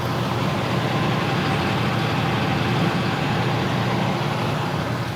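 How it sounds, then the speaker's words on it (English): A large truck rolls alongside a 2022 Hyundai Santa Cruz SEL Premium AWD pickup, heard from inside the cabin as a continuous, even rumble of road and engine noise with no distinct peaks and no talking. "I can hear the truck next to me"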